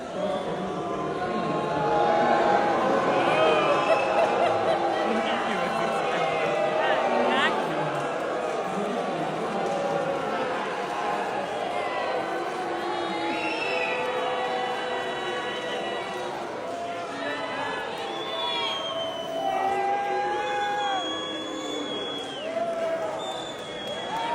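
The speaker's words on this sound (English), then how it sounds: "Listen to the crowd as J.D. Vance speaks at the Republican TPUSA event today." A large crowd at a Republican TPUSA event reacts while J.D. Vance speaks, a continuous roar of voices and shouting that stays loud throughout, with a voice talking over it.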